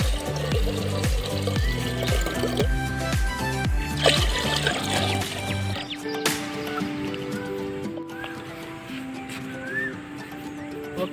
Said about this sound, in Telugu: దీంతో వాటర్ పోసి పొయ్యి మీద పెట్టుకుందాం ఫ్రెండ్స్